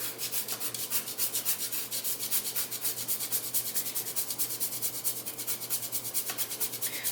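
A whole nutmeg rubbed against a grater over a bowl, making a fast, even rhythm of dry rasping strokes that runs steadily from start to end at moderate volume.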